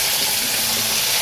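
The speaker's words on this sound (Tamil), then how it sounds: "ஸோ கோவக்காய் வேகிறதுக்கு கொஞ்சம் தண்ணி ஊற்றணும்" Water pours into a pan to cook ivy gourd, a brief, steady, loud gushing hiss close by with no talk.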